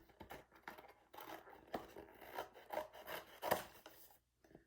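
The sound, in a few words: cutting out a cardboard rectangle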